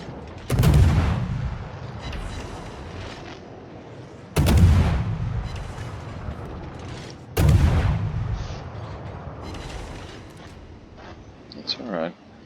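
Naval guns from a warship video game fire three heavy booming salvos about every three to four seconds, each loud blast trailing off into a low rumble, with quieter battle noise between shots.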